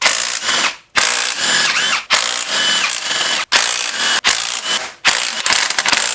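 A 1/2 inch mid-torque impact wrench loosening cylinder head bolts on an engine teardown, firing in five loud, close hammering bursts of a second or so each, with short pauses between.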